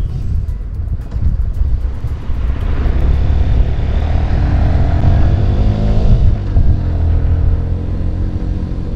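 A 2022 Sinnis SM-R 125cc budget super-motard motorcycle is ridden, its small single-cylinder engine droning steadily and loud with wind rush, the pitch rising and falling as it changes speed.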